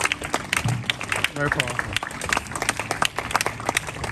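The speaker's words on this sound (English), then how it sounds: "Clap your hands for Jesus." Audience hands clapping at a gospel worship event, dense and steady throughout, with a speaking voice and scattered crowd noise over the claps.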